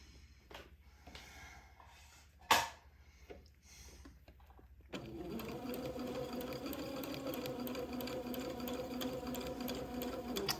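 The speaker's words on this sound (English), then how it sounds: "with a straight stitch and about a 1/8 inch seam allowance, I'm going to tack this pleat into place" A sewing machine runs a straight stitch to tack a pleat on a baby layette garment, starting after a few soft handling noises and a sharp clack, then humming steadily and close for several seconds.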